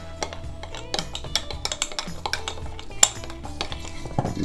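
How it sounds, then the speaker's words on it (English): Shrimp dish stirred in a metal pot with a utensil, a run of quick irregular clinks and scrapes against the pot, close and moderately loud, with no one speaking. "just stir it up."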